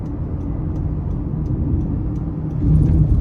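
A 2023 Honda Pilot Touring AWD with the 3.5 engine pulls in sport mode, giving a steady low engine rumble heard from inside the cabin that swells louder near the end as it accelerates.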